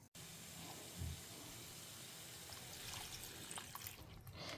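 Water poured into a cooking pot of broad beans for a Karnataka Brahmin-style saaru, a steady liquid trickle and splash running throughout at moderate, close level with a brief heavier gush near the start.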